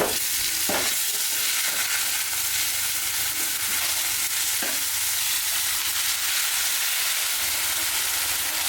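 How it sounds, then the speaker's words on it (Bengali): A spice paste of turmeric, cumin, chilli powder, garlic and ginger paste with salt fries loudly in a pan, a continuous dense sizzle broken by a few scraping stirs, no talking. "মশলাটা ভালো করে কষাই নিতে হবে"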